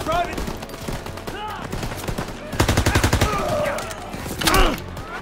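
A machine gun rattles in rapid bursts on a chaotic D-Day beach landing in a World War II shooter, with gunfire, explosions and shouting soldiers layered together, the firing loudest in a fast stuttering run midway.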